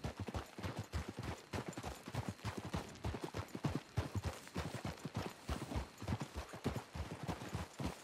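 Horse hooves galloping in Red Dead Redemption 2, a steady fast clip-clop rhythm close and continuous throughout, with no talk.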